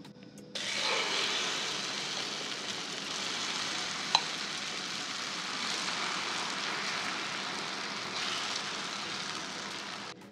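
A Maggi omelette sizzles steadily in a hot pan on a stove, a loud, even frying hiss that continues unbroken throughout with no talking.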